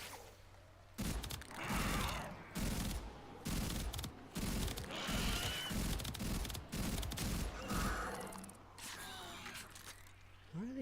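Gunfire from a weapon in the video game Warframe crackles in rapid, closely spaced bursts and volleys, loud and repeated across the whole stretch, easing off toward the end.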